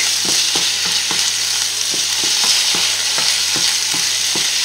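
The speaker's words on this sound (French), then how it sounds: "on ajoute le saumon. Hop. Et on remue." A spoon stirs salmon into risotto in a pan over medium heat, scraping in a regular rhythm of soft strokes over a continuous close sizzle.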